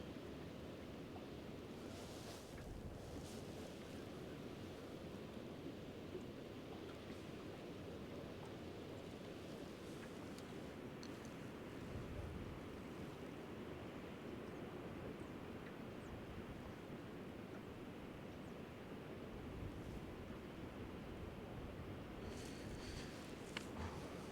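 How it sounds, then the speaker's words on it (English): Cold, strong upstream wind blows steadily beside a river in December, a broad continuous roar with gusty buffeting on the microphone and no talking. "That wind is cold. Big upstream wind there."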